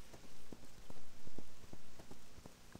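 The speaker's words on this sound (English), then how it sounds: "Why does it have to rain?" Rain in World of Warcraft, a steady hiss of falling drops with soft regular thuds of footsteps or hoofbeats running through it, close and even throughout without talk.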